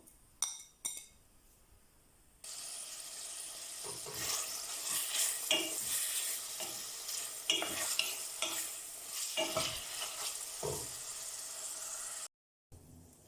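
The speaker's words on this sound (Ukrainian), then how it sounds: "Вкидаю грудинку і смажу до золотистого кольору." Pork brisket sizzles and spits as it fries in a hot pot while being stirred, with scraping and occasional clinks of a utensil against metal, continuous and close.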